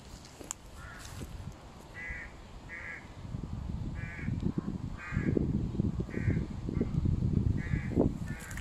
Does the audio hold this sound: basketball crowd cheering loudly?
no